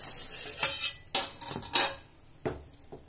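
Thick ragi (finger millet) dough is stirred in an uncovered pot, giving several sharp, close metallic scrapes and clanks at irregular intervals with quieter gaps between, and no talking.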